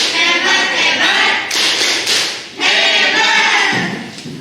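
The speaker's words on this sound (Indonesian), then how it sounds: "Untuk yang terakhir, kita tepuk hebat dulu." A classroom of pupils doing a 'tepuk hebat' clapping routine: loud, close bursts of group clapping in rhythmic waves, blended with children's voices chanting along.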